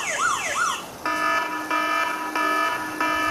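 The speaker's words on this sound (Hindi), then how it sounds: "अब ये जब तक ये अलार्म करता रहेगा जब तक ये हम इसको स्टॉप नहीं करेंगे" Mobile phone anti-theft alarm sounding loudly from a nearby handset, first a rising-and-falling sweeping wail, then repeated steady electronic tones in regular pulses, with no talking.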